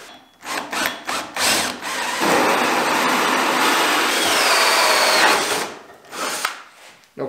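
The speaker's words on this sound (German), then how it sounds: "Wir müssen das Ganze natürlich mit dem Akkubohrer machen" A cordless drill bores through a scrap wooden board: a few short buzzing bursts, then a long sustained grinding run through the wood, then more brief revs as it winds down, close and loud.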